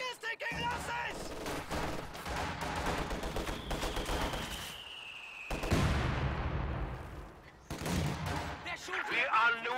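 Gunfire and mortar or artillery fire in a strategy video game battle, with dense bursts of rapid shots and heavy booming impacts that come and go, while a voice talks over the combat.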